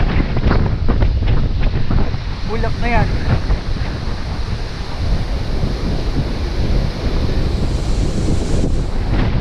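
Strong wind buffets the microphone on a mountain bike ride about 800 meters above sea level, a loud continuous roar that nearly drowns a brief spoken phrase.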